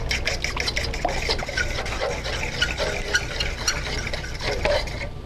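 Eggs beaten with a fork in a bowl for pasta dough, a rapid, continuous clicking and sloshing that stays steady and close throughout.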